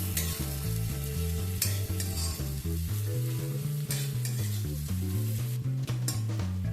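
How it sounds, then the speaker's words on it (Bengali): Sliced onion fries in oil and is stirred until lightly browned for chicken bhuna khichuri, a continuous sizzle running beneath background music. "খানিকক্ষণ সময় নিয়ে পেঁয়াজটাকে একটু ভেজে নেব।"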